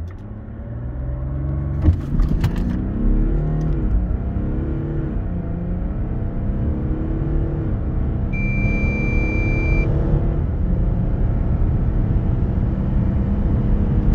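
Audi Q8 3.0 V6 TDI quattro diesel SUV accelerating hard from a standstill to 100 km/h, a steady loud engine rumble rising through gear changes, heard from inside the cabin with no talking.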